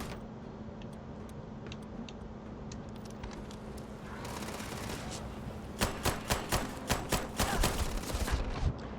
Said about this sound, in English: Why is Shaw shooting at me now?